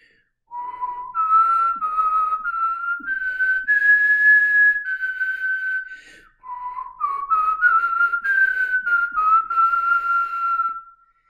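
A hymn tune from the Catholic Gotteslob hymnal whistled alone and close, as two long melodic phrases with a short pause between them and no talking.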